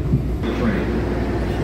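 A train pulls into Kimball terminal station with a steady, close, low rumble that holds unbroken for under two seconds, with a faint murmur mixed into the noise.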